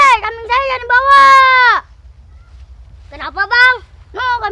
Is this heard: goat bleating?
yes